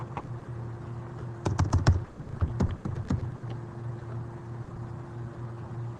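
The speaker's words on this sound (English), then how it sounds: "I can just start typing in Earth" Keys clatter on a computer keyboard in a quick burst of typing, followed by a few more scattered keystrokes over a steady low hum.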